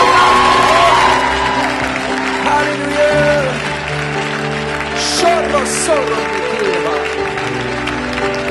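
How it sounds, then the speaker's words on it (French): Church congregation applauding during a French-language worship service, steady broadband clapping mixed with shouts and cheers over music, with a voice calling out briefly. "donnez-moi un applaudissement"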